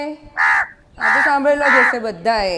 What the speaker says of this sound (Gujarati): આ કાગડાનો અવાજ છે.